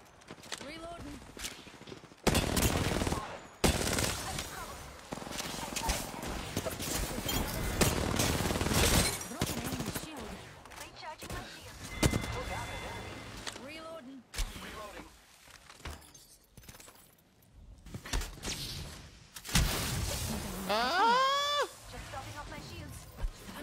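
Gunfire in the Apex Legends video game: repeated loud, broadband bursts of shots with shattering, crackling impacts in dense clusters across the clip, mixed with in-game character voice lines.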